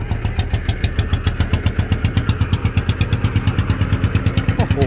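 Kubota ET110 single-cylinder diesel engine fitted in a Mitsubishi L200 pickup runs steadily nearby, a loud, regular thumping beat with a clattery knock throughout, no talk over it.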